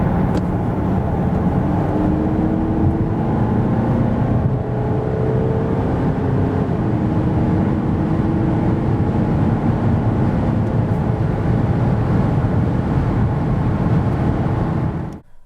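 A 2026 Volkswagen Tayron R-Line SUV with a 2.0 TDI 193 hp diesel drives at speed, giving a steady, loud hum of engine, tires and wind that holds throughout and ends abruptly.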